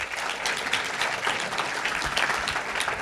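A crowd at a startup cohort launch event applauds the new cohort, producing steady, even clapping at moderate volume that carries for the full few seconds without talk.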